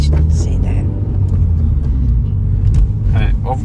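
A Mini John Cooper Works car driving in sport mode gives a steady, loud, low engine and road rumble from inside the cabin, with voices talking briefly at the start and near the end.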